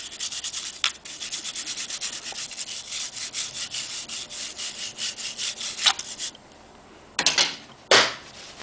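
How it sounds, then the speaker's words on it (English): Vigorous back-and-forth scrubbing on grimy parts of a BMW R90/6 motorcycle, a rapid rhythmic brushing close up that pauses briefly, then ends in a few louder, separate strokes. "But just scrub over it real good."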